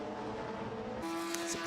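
A race car at Silverstone International runs hard and spins after contact, its engine holding a strong tonal note that shifts pitch abruptly midway, loud and continuous without voices.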